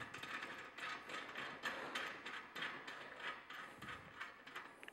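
Metal clamp being bolted onto a TRIC F solar tilt racking bracket, with steady mechanical ratcheting and clinking in a close, continuous rhythm and no talk.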